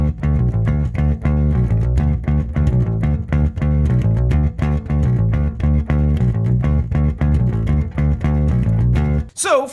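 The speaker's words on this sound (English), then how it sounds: "This riff is in D, and it sounds like this." Bass guitar plays a riff in D, a loud, driving run of repeated short plucked notes with a steady, bouncy rhythm, close and solo until a brief slide at the very end.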